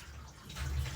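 Tap water runs into a sweet and sour sauce being mixed for enoki mushrooms, a brief, soft, steady pour with no talking.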